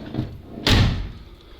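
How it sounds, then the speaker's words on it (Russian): Cab door of an old Kamaz 4310 truck swinging shut with a single solid slam, heavy and close, after a brief quiet shuffle, with the thud fading over about a second. "И сейчас просто закрываю дверь."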